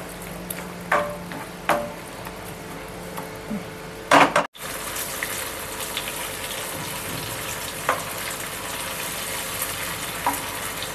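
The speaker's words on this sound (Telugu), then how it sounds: "బాగా పచ్చి వాసన పోయేదాకా అయితే బాగా ఫ్రై అయితే చేసుకోవాలి" Prawn curry masala with tomatoes, onions and ginger paste frying in a pan, a steady close sizzle broken by a few scraping stirs and clatters and a brief cut.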